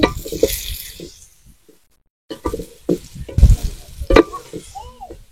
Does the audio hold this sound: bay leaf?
yes